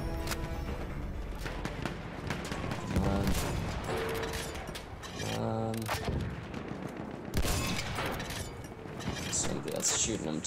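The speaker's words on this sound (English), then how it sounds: "Somebody else shooting them too." Gunfire in the Battlefield 1 video game: repeated loud shots and bursts, some with heavy booming impacts, fire in irregular volleys against a busy battle din, with a voice speaking over parts of the action.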